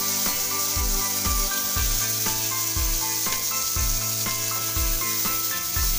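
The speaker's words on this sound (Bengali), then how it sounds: "মাছ ভাজার যে তেলটা রয়েছে প্রথমে আমি জিরে ফোড়নে এর সাথে মূলোটা একটু ভেজে নেব" Radish, boiled with turmeric and salt, fries in leftover fish oil with cumin seeds, a steady sizzle running beneath loud rhythmic background music with a thumping beat.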